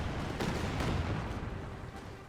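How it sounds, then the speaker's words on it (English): A Calliope rocket artillery barrage in Company of Heroes 2, a dense continuous roar of rocket launches and explosions with sharp cracks layered over heavy rumble, loud and sustained throughout. "Oh wow, another Calliope barrage."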